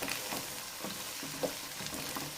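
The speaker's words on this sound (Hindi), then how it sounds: "अब इसको अच्छी तरह भूनते हैं मसालों के साथ।" Meat, peas and chicken gosht, frying in a pan with ginger-garlic paste and spices, gives a steady close sizzle with soft stirring scrapes throughout, and no voices.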